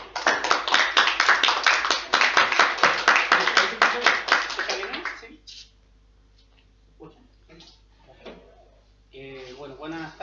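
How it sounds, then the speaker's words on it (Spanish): An audience at an anniversary talk on the Bolshevik Revolution claps in a fast, even rhythm to welcome a speaker, stopping after five seconds; scattered small noises follow, then a voice begins speaking. "Le damos un aplauso y la bienvenida."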